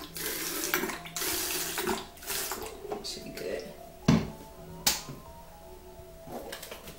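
Water runs and splashes steadily into a spray bottle, with clinks and handling knocks and a voice speaking faintly under it.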